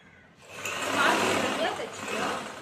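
A sewing machine stitches chudithar pieces, starting up after a brief quiet and running as a steady whirring drone that swells and eases over a couple of seconds.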